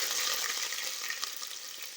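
Curry leaves sizzle and crackle in hot oil in a pan, a bright, dense frying hiss with small pops, close and steady for two seconds with no voice over it.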